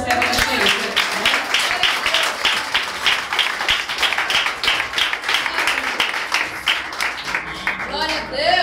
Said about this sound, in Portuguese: E a igreja aplauda Jesus recebendo a serva do Senhor.